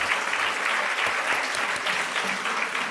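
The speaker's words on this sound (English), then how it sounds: "round of applause" Steady, dense applause from a seated audience at a literary awards ceremony, a continuous wash of many hands clapping at even loudness throughout.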